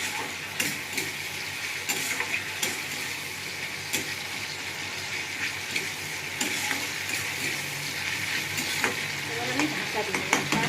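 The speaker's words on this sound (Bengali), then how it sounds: "পেঁয়াজ দিয়ে একটু ভাজা ভাজা করে নেবো।" Onions sizzle steadily in hot oil for a chitol fish curry, with a spoon scraping and stirring the pan at intervals throughout.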